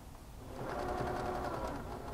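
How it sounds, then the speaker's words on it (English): A sewing machine stitches silk lining to faux fur with a steady close mechanical whir that builds after a soft start and holds evenly to the end. "Just put your presser foot down as normal and just start sewing."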